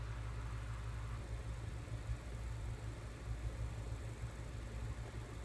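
A tiny electric motor of an N scale U30C model locomotive spins slowly at very low voltage, giving a steady faint whirring hum with no voices.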